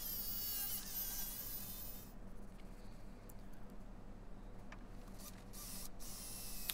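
WD-40 sprayed onto a metal lathe tool rest bar in a workshop, a short hissing spray burst at the start, followed by quiet room noise and a low steady hum.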